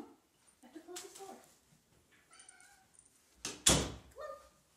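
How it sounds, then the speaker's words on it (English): A door swings and closes with a solid thud near the end, after soft shuffling, faint voices and a dog's whimper. "I have to close this door."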